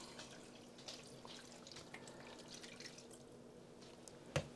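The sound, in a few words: pouring water into seed tray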